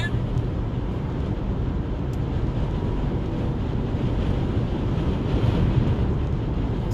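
Strong gusting wind buffets the microphone while driving in New Jersey toward the George Washington Bridge, a steady low roar filling the whole stretch with no break.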